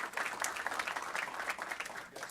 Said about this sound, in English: Let's give these guys an round of applause.